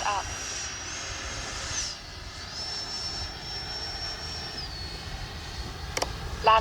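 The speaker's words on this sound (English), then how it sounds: "All right, flyby with gear down." An FMS Integral 80mm Sharky RC jet makes a gear-down flyby, its thin high ducted-fan whine holding steady at a distance with a slight pitch shift as it passes, and a voice speaks.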